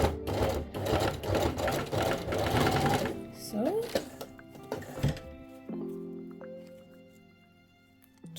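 Sewing machine top-stitching an ankara fabric maxi circle skirt, a loud rapid whirring run for about three seconds, then stopping, followed by quieter handling clicks and a low steady hum; tagged speech is present but no words are clear.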